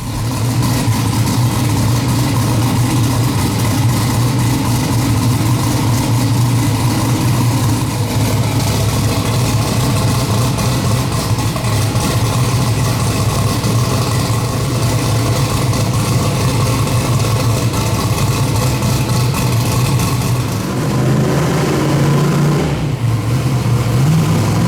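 A turbocharged Ford Mustang runs on a hub dyno, its engine droning loud and steady at high revs for a long stretch, then dropping off and settling lower near the end.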